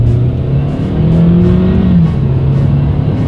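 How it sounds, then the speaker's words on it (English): A 2017 Hyundai Sonata Sport with a 2.4-liter engine accelerates hard, its loud, steady engine drone rising in pitch and then settling, heard up close from inside the car. "let's do a quick little acceleration, see how quickly we can get the 2017 Sonata Sport up to speed"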